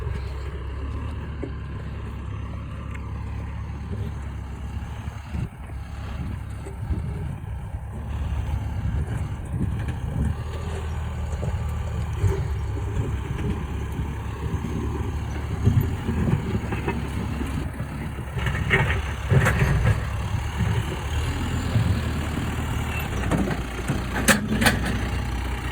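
John Deere 210K skip loader clearing rocks from a horse field, its diesel engine rumbling steadily at moderate distance with scattered knocks and scraping clatter rising toward the end.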